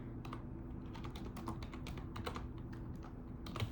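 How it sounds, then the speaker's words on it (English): Rapid typing on a computer keyboard, a dense steady patter of crisp key clicks close to the microphone over a low constant hum, no speech. "I'm using a different keyboard"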